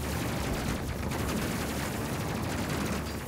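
Ship weapons on focus fire in the Space Crew video game, a steady barrage of rapid, muffled shots and blasts filling the space without pause.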